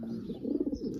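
Pigeons give a brief low, throaty coo, fairly faint and close, with no voices.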